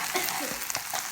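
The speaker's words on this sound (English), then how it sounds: "Next I add my spaghetti, and then I stir thoroughly for everything to infuse nicely." Spaghetti stir fry being stirred in a hot pan gives a brief, quiet scraping and sizzle with a few soft utensil clicks.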